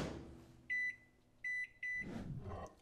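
A 1200 watt microwave oven heating peanut brittle gives three short, clear electronic beeps in quick succession, with soft handling noises before and after.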